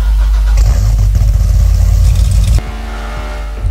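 A car engine in a video game roars loudly, revving hard for a couple of seconds, then drops to a rough idle with a clanking shift.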